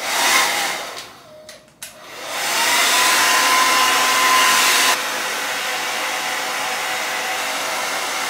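A hair dryer blows on glue spread over wig lace. It starts loud, cuts out briefly with a few clicks, then returns at a steady close roar before dropping to a slightly lower setting.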